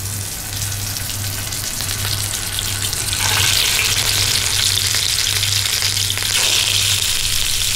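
Bitter gourd fries in a pan with a loud, steady sizzle that swells partway through, joined by stirring noises and a watery hiss, with no one talking.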